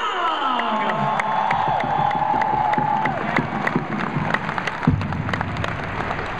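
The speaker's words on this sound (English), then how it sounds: "So give them a huge round of applause." A large arena crowd at a concert roars with cheering, whoops and sustained clapping for the local string players, loud and continuous with sharp individual claps throughout.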